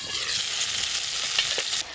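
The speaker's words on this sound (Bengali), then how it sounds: "সুন্দর বেশ গুটগুট করে ফুটছে" Fish curry of small puntí fish bubbles steadily in a covered pot, a close, continuous frying-like hiss with soft popping that drops away near the end.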